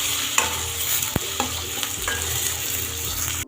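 Chopped tomatoes for bean palya sizzle steadily in a hot pan, a continuous close frying hiss broken by a few sharp clicks of stirring, with no talk.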